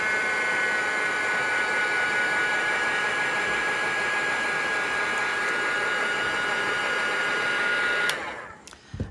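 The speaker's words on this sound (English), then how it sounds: "The easy way to get that off is just to hit it with the heat gun" Heat gun blowing lightly over stray hot glue strings on a primitive winter sled craft, a steady close hair-dryer-like rush with a faint whine that cuts off abruptly near the end.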